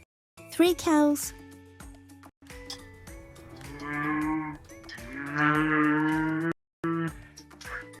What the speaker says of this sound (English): 3 cows.